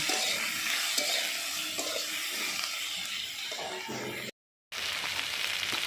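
A poppy seed dish with turmeric powder and salt stirred in a pan, a steady broad sizzling hiss with soft scraping of the spoon, close and continuous until a brief gap of silence near the end, with no voices.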